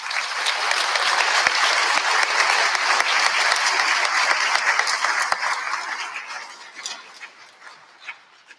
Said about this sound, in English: So please applaud to our deployed veterans.